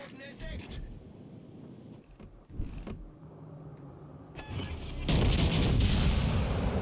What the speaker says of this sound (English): Now, obviously, we're firing our guns.